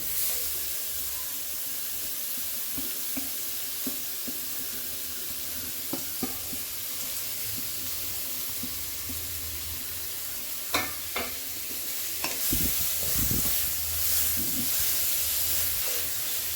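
Grated carrot and onion sauté in a pan, a steady soft sizzle and hiss running throughout, with scattered clicks and a stirring scrape near the end.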